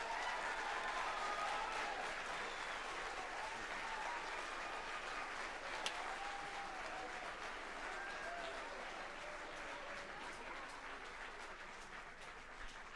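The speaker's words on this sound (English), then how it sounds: "Let's give them a huge round of applause." Audience at a high school wind ensemble concert at an honor band clinic applauding, a long, even, fairly distant spread of clapping that slowly fades over about thirteen seconds.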